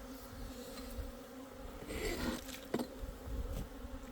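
Asian honeybees swarm around an opened hive on a mild February day, their dense, close buzzing rising and falling, with individual bees droning past near the ear.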